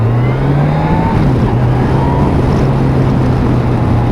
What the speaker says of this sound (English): we're just going to do the obligatory pop the throttle, just see what she does.